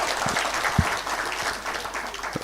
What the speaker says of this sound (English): Give him a hearty clap.